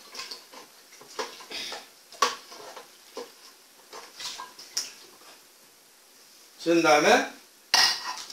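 Repeated scraping and clinking as a utensil stirs thick makgeolli rice wine mash with added yeast and water down to the bottom of a container, irregular strokes with a couple of louder rattling bursts near the end.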